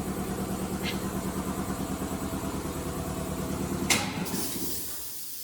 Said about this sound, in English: I said the compressor must have been empty to run so long